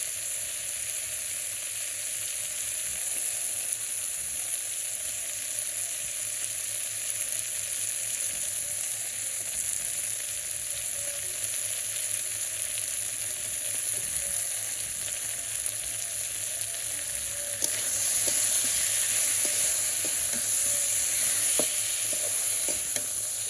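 Spiced food with salt, turmeric and chili sautés in a pan over a clay stove in a Bangladeshi village kitchen, giving a steady, close hiss of frying that runs unbroken and grows slightly brighter toward the end.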